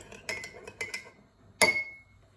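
Light clinks of a spoon stirring salt into a glass of water, a few quick taps followed by one brighter ringing strike.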